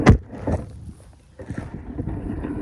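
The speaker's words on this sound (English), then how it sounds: "The wind's a bit strong." Strong outdoor wind buffeting the microphone in low rumbling gusts, with a sharp blast at the start and uneven rushing afterward.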